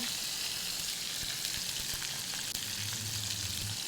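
Small onions (shallots) frying in a pan, a soft, steady sizzle and crackle heard close with no one talking.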